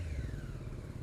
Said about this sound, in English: The engine is free revving.